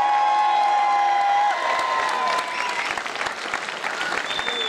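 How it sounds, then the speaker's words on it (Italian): Loud, continuous applause mixed with cheers and a few whoops from a crowd at an autoslalom awards ceremony, the clapping growing livelier and more scattered partway through. "Eccolo qua, qui gli applausi"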